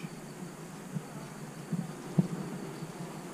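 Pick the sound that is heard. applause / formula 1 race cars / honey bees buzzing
honey bees buzzing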